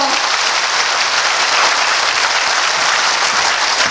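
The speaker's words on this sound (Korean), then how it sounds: "다시 한번 박수로 큰 힘 주십시오" Audience applause at a Korean policy press conference: dense, loud clapping sustained evenly throughout, with no other sound standing out.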